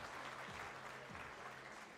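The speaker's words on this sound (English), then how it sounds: "Massive applause for Naruka." Crowd applauding skeet shooter Naruka at an ISSF World Cup Final in New Delhi, a steady wash of clapping from a home crowd, fairly distant, with a low hum beneath it.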